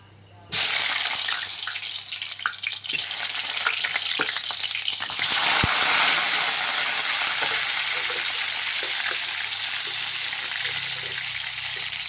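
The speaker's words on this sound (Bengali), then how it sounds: "এই যে এখন আলুগুলি দিব, ভাজি করব।" Potatoes go into hot oil with an abrupt loud sizzle that keeps up as a dense, close frying hiss for over ten seconds, with occasional stirring scrapes.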